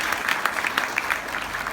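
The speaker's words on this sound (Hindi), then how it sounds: "दिल से तालियों से धन्यवाद करते हैं।" An audience at a Brahma Kumaris spiritual talk claps steadily, a moderately loud burst of indoor applause with no voices over it.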